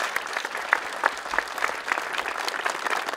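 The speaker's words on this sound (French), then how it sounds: "Oui, vous pouvez l'applaudir," An audience at an 11 November 1918 commemoration ceremony applauds with steady, dense clapping throughout, heard from a moderate distance without other sounds standing out.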